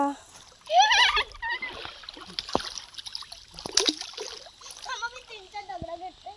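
Water splashes as someone wades through a small stream on a forest path to farmland, a few irregular sloshes near the mic amid voices talking.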